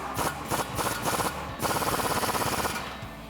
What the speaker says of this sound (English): we'll snug that up with our 15mm socket